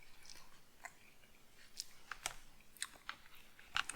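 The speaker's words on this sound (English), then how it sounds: "it's very, very overdone, so it's really tough to chew through." Someone chews tough, badly overdone meat, giving soft, irregular wet crunches and bites close to the microphone, quiet, with no talking.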